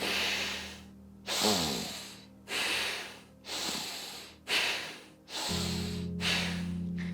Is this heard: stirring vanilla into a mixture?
no